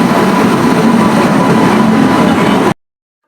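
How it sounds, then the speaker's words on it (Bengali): A loud, steady rumble of a train pulling into a station, with broad rattling noise that holds constant and then cuts off abruptly. "এখন সেই মুহূর্ত ট্রেন ঢুকছে"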